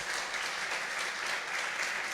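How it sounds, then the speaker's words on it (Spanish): A church congregation breaks into steady, dense applause that fills the space evenly, close and loud, with no talk over it. "Démosle un aplauso al Señor por lo que hizo por nosotros."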